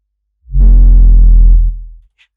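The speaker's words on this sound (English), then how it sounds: "Now, with the actual sound by itself, the bass sounds like this." A single deep, heavy sub-bass hit swells in and sustains for about a second before fading, loud and isolated with a faint tick after.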